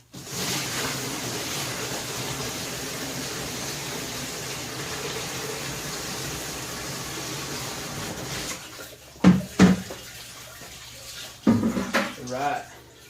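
Water from a bucket pours steadily into a Mirachem heated parts cleaner, a continuous close splashing rush that stops near the end, followed by a few clunks and a person talking.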